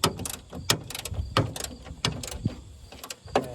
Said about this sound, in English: I'm just going to grab my electric ratchet, zip these out a little bit quicker.